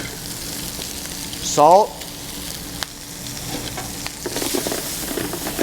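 Garlic and shallots sauté in a pan for restaurant-style shrimp scampi, with a steady close sizzle and stirring and tossing noises while a person speaks over the cooking.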